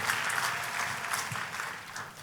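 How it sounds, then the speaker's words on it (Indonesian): A church congregation applauds during a worship service, a brief wash of clapping heard at moderate distance, fairly soft and steady. "Kita kasih tepuk tangan yang paling meriah buat Tuhan kita."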